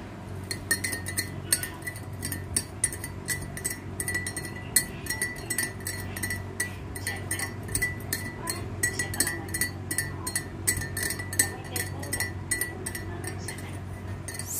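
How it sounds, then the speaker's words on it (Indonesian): A spoon stirs sugar into hot water in a glass, making a steady run of quick, light metallic clinks against the glass, close and fairly soft, repeating rhythmically throughout. "Nah, lalu kita kocok, kita aduk sampai merata."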